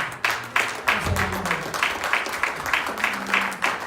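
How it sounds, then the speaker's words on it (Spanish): A church congregation bursts into applause, a loud, close wash of clapping with rhythmic pulses throughout and a faint low hum of voices or instruments beneath. "Denles aplauso a Jesús, hermano."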